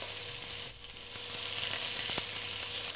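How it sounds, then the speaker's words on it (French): Rabbit saddle fillets with pesto sizzle steadily in a hot casserole, a continuous close frying hiss with faint crackles and no talking. "Nous allons rôtir les filets de lapin au pesto sur chaque face."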